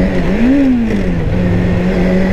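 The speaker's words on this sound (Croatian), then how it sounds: "evo sad ste imali priliku vidjeti kako Kawasaki nekad zna upast u među brzinu" A 1999 Kawasaki ZZR 600 motorcycle engine revs up, then the pitch falls and settles into a steady idle as the gearbox slips into neutral, loud and close with no talking.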